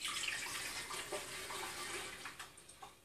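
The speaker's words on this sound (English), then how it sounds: "pour about half of this gallon into a boiling container" Apple juice pours from a gallon jug into a pot as a soft, uneven splashing stream lasting about three seconds, quiet and close.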